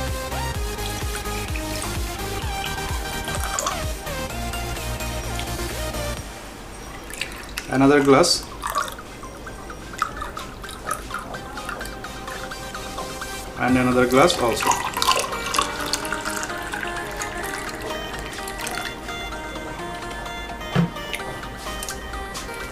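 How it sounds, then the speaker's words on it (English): Plain water is poured into a series of glasses as part of a kitchen science experiment, with splashy pouring bursts standing out between stretches of background music and a person speaking. "At first we're going to pour normal water in a glass."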